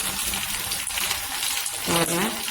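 Garlic fries in a pan with a close, continuous hiss and crackle that stays steady, and a voice briefly speaks near the end.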